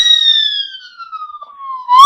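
A fire engine siren effect, one long loud electronic wail sliding steadily downward in pitch, then a fresh rising sweep starting at the very end, clean with no talk.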